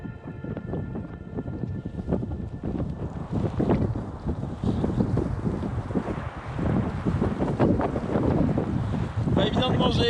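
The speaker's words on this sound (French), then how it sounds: "il y a du vent." Strong Antarctic wind gusts and roars against the microphone in the cold, a loud continuous rush with brief voice fragments buried in it.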